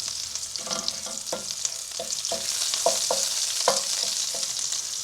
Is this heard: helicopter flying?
no